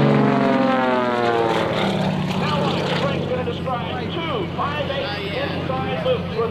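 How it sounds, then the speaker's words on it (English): An aerobatic propeller airplane performing at an airshow drones steadily overhead, its engine tone shifting as it maneuvers, with an announcer speaking over the sound throughout. "He'll kick the rudder and stop the nose of the airplane 4 times."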